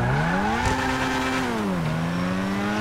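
Newest Ferrari driven in a video game, a steady engine note rising in revs, dipping briefly near the end and climbing again, loud and alone for about three seconds.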